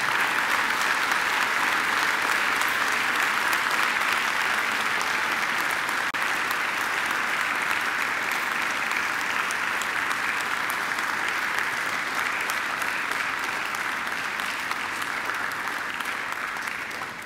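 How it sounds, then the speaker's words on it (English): Graduates at a Macquarie University graduation ceremony applaud their families and friends, giving a dense, sustained round of clapping from a large crowd that holds steady before easing slightly at the end. "I invite you to give them a mighty round of applause."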